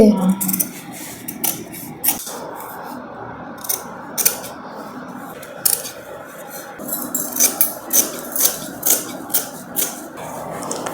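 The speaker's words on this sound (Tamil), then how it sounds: "இப்போ முன் பக்கத்துக்கு வெட்டிட்டேன்" Scissors cutting fabric for a long gown, with repeated close snips that quicken into a steady rhythm, while someone talks over them.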